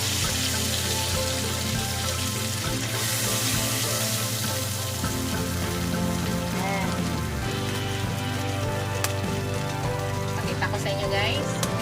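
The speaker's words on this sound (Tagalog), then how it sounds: "Tapos lutuin na natin yung ating sibuyas." White onions frying in a pan, a dense steady sizzle and crackle close by that continues throughout, with a voice talking over it.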